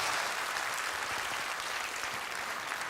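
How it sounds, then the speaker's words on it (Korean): A Korean church congregation applauds warmly during a Sunday service, an even, continuous patter of many hands clapping throughout. "그래서 선생님들 뜨거운 박수로 우리 축복해 주시기 바랍니다."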